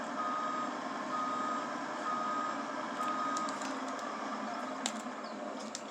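A truck's backup alarm beeps steadily as it reverses on rural land being landscaped, the repeated tones carrying over a constant engine rumble at moderate distance.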